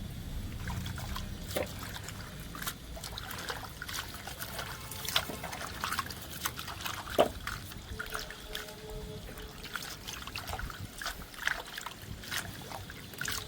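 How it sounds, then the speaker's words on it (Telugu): Gongura leaves being washed in water, a quiet continuous trickling and sloshing with small splashes and occasional light knocks throughout, close and low in level. "రెండు సార్లు కడగాలండి గోంగూరని"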